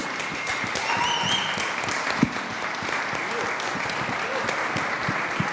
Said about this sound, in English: a big round of applause to you guys for showing up